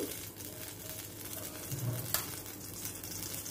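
Mustard seeds and tempering spices fry in a little oil in a kadai on the stove, giving a soft, continuous sizzle with light crackles and one sharp pop.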